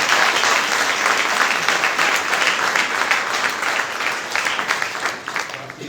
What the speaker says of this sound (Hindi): सो जोरदार तालियां